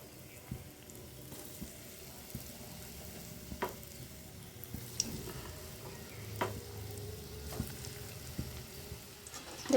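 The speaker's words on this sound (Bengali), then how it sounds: "আমার তেল গরম হয়ে গেছে। এরপর আমি একে একে কোপ্তাগুলো আমি ছাড়বো।" Green banana koftas fry in hot oil with a faint, steady sizzle, and occasional soft clicks and bumps of a utensil. The sound is quiet and close, with no speech.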